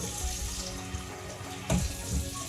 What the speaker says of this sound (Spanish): lo único que me voy a enjuagar el colador y eso para que no sucio no se queda porque es agua con jabón